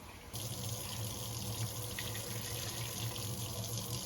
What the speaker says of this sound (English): So just keep rinsing and repeating until the water becomes as clear as possible.